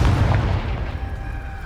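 A Confringo fire spell from Hogwarts Legacy bursts into one loud, booming explosion right at the start, then trails off in a rumbling decay with no speech over it.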